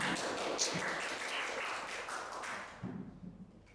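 A burst of clapping from a group, dense and sustained, then tapering off into scattered claps near the end.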